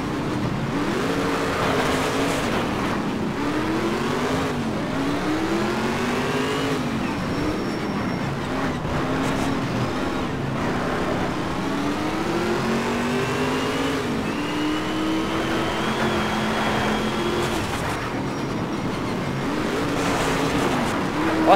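Ford GT race car engine in Need for Speed Shift, revving up and down through gears in repeated rising sweeps, loud and continuous with no talk.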